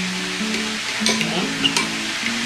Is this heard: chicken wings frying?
yes